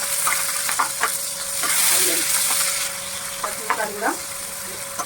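Onions and garlic fry in oil, with a steady hiss and sizzle and occasional stirring scrapes while a voice talks over it.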